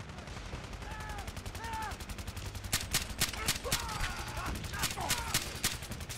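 Gunfire crackles through a Fallout 4 settlement fight, a rapid run of sharp shots that grows denser and louder midway, with bursts firing close together over steady game ambience and brief synthetic chirps.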